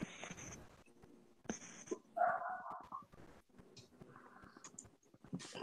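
A dog gives short whimpers and a few soft barks, fairly faint and intermittent, against quiet room background with scattered clicks.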